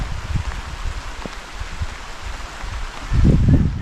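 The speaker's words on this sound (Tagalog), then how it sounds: "Ay, malakas. Yan na naman si ulan" Steady rain hisses in a broad wash of noise, with low thumps and heavier drumming toward the end.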